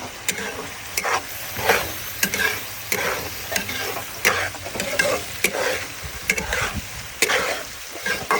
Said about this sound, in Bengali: এবার আমি কেটে রাখা ট্যাংরা মাছগুলো দিয়ে দেব সুন্দর মতো নিয়ে নেবো